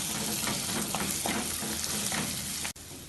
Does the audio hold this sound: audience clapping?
no